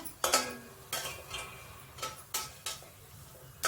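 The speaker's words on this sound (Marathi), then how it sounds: "हळकुंड मस्त असं तळून घेते है ना" Turmeric root fries in a little oil while a spoon stirs it, giving a series of irregular sharp scraping clicks and ticks over a faint sizzle, close and moderately quiet.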